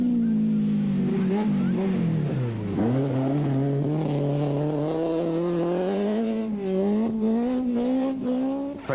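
Volkswagen Polo rally car accelerating on a rally stage, its engine note rising and falling through gear changes in a loud, sustained, close drone with no talk.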